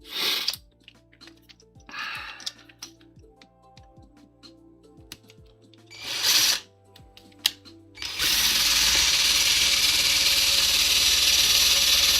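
A power drill fitted with a blunt wood bit struggles against metal, giving short bursts of whirring and grinding with clicks and pauses between, then a loud sustained high-pitched grind that carries on to the end.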